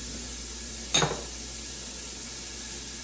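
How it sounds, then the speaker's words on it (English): A small yellow onion drops into a hot soup pot, giving one brief sizzling burst near the one-second mark that quickly fades into a steady low hiss of the stovetop. "So I'm going to add small yellow onion."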